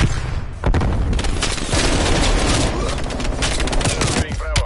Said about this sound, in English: Using flashbang.